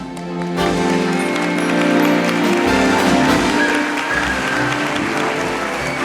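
An audience at a twentieth-anniversary gala evening applauds as a bank's commercial director is welcomed on stage, a brief quieter moment swelling into sustained, full crowd clapping with a musical tone running beneath.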